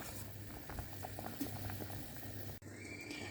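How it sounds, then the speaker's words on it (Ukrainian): Poppy seeds simmer in a pot of boiling water, a steady bubbling hiss with soft pops throughout, broken by one brief clatter near the end, with no voices. "Закипіла водичка, знімаємо цю пінку, робимо мінімальний вогонь."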